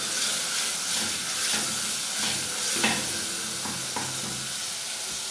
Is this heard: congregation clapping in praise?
no